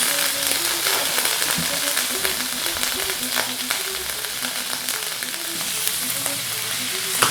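Cooked offal frying with spices in a pan for a Ugandan katogo with bananas, loud and close, a dense continuous sizzle with crackles and stirring, while a melodic tone runs underneath.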